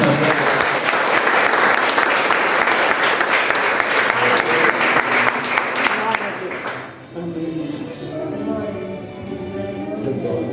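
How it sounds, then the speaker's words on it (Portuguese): A church congregation applauds loudly for about seven seconds, a dense, close burst of clapping that then drops away abruptly, leaving quieter room sound with a voice speaking. "E aplaude forte porque é para ele."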